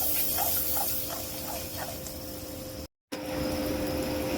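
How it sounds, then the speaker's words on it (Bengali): Onions frying in a pan for a bitter gourd stir-fry give a steady, close, even sizzling hiss that cuts out for a moment near the end and then resumes. "পেঁয়াজটা ভাজা হোক।"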